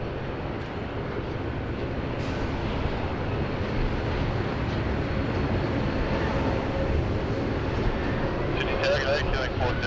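An airliner, Velocity flight 426 bound for Adelaide, takes off from runway 16 right at Sydney Airport, a steady broad engine roar filling the air at a distance.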